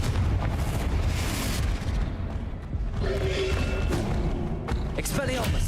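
A Confringo blasting spell cast in the Hogwarts Legacy video game, heard as loud booming explosive bursts amid dense continuous battle noise with other spell effects, under voices shouting spell names.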